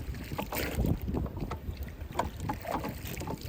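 Gusty wind buffets the microphone in a constant rumbling roar, with splashing water and oar strokes underneath as a small boat is rowed.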